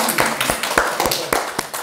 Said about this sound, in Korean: 박수 한번 드립시다, 우리